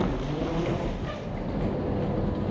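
A train in Copenhagen, heard as a steady, fairly loud broadband rumble and rolling noise that carries through the whole stretch without breaks, with no talking over it.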